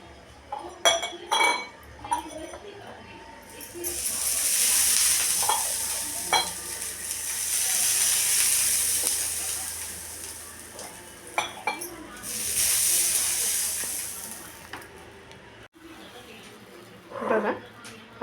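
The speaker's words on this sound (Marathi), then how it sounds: "आपण तव्याला तेल लावून घेऊया" Oil sizzles on a hot griddle while bhagar dosa is prepared, with bursts of frying hiss rising and falling, clinks of a utensil scraping and tapping, and someone speaking between the sizzles.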